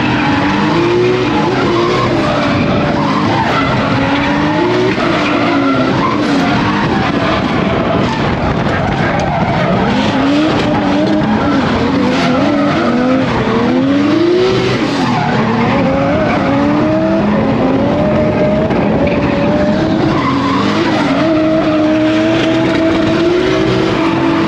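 A 2JZ-powered 800 hp Lexus GS300 drifts with loud, continuous tire squeal and wavering engine roar, the screech rising and falling as the car slides, close and dominant throughout.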